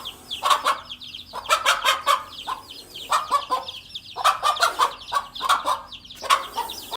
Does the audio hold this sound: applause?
no